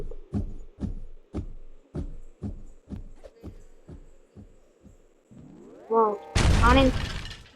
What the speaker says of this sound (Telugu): బాంబులు బాగానే పెట్టింది మరి.